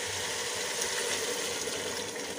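Water, about a glass, is poured into a pan of vegetables that have been frying in ghee, giving a steady, moderately loud hiss and sizzle with no speech.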